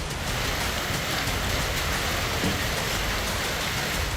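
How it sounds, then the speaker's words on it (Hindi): Hail pelting down during a sudden April storm in Anantnag, South Kashmir, a dense, steady roar of ice pellets drumming on surfaces, continuous and loud throughout with no voices. "मौसम ने करवट ली और अचानक ओलावृष्टि शुरू हो गई।"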